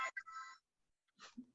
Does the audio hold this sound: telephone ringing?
yes